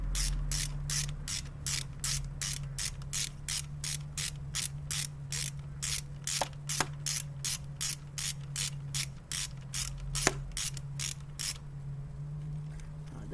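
A ratchet tightening the camshaft sensor bolt on a Vauxhall Vectra V6, rapid steady clicking pulses over a low background hum, close up, ending in a few pauses and final clicks.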